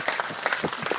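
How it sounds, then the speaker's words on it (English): Brief applause at a Christian gathering, a short burst of scattered hand claps filling about a second at moderate level. "clap for her now"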